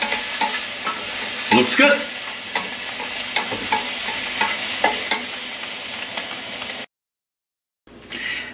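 Scallops sear in a hot pan, a dense crackling sizzle punctuated by a few stirring scrapes, with a brief spoken remark before the sound cuts out, then resumes faintly.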